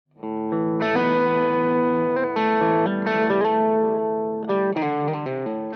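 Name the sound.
electric guitar through high-gain distortion pedal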